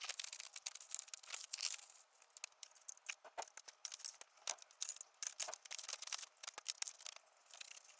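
Scissors snip a paper pattern for Ford Escort MK1 chassis fabrication, a faint, rapid series of crisp cuts and crinkles, close and quiet without talk.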